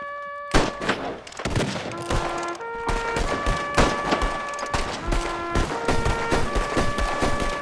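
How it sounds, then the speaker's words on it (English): Repeated gunshots ring out in a 21-gun salute in a game setting, loud bursts fired steadily across the stretch over tonal musical notes and sustained background sound. "There, that's 20 shots."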